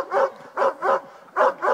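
A dog during training barks five times in a loud, close, evenly spaced series, two quick barks then a pause, a repeated pattern with nothing else under it.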